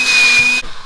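A small cordless leaf blower runs in vacuum mode, sucking air in with a loud, steady whine and whoosh that cuts off abruptly partway through.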